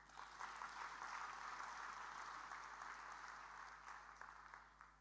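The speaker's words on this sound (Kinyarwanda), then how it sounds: "Mwami tumukomera amashyi." A church congregation applauding for Christ during a sermon, a sustained, fairly distant wash of clapping that holds steady for several seconds with no talk over it.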